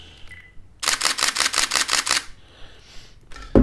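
Nikon D610 DSLR shutter firing in continuous high mode at 6 frames per second, a quick burst of about eight sharp mechanical clicks close to the mic, then a few quieter clacks.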